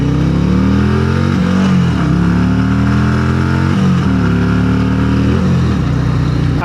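Harley-Davidson Street Glide Ultra with the Milwaukee 117 V-twin revving loudly and steadily nearby, the engine note rising and dipping through several swells with no talk over it.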